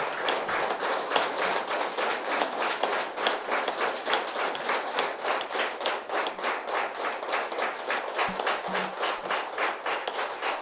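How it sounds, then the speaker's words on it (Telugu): A group at a pyramid meditation centre anniversary gathering claps hands loudly in a fast, steady rhythm, the sharp claps continuing evenly for about ten seconds with no talk. "గట్టిగా చప్పట్లు కొడదాం."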